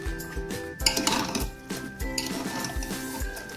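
A spoon stirs dry chicken curry with potato and coriander in a metal cooking pot, giving rhythmic scraping and clinking strokes, close and fairly loud, with no one speaking.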